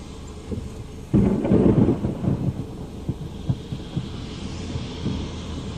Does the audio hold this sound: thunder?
yes